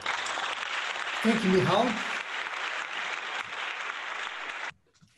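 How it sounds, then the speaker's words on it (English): Sustained audience applause fills a conference hall at the close of a talk on Python code development, steady and dense for several seconds, with a brief spoken thanks over it before the clapping cuts off. "See those claps."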